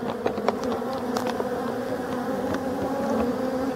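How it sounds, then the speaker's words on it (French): Honeybees and drones at a beehive in Brittany during the autumn ivy flow, a dense continuous buzzing swarm close up with individual bees droning past. "J'ai mis les bourdons avec la petite ruche et avec la petite reine."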